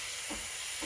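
Breville Barista Express BES870 espresso machine's steam wand releasing steam, a steady broad hiss close by, with a couple of faint low sputters underneath and no talk.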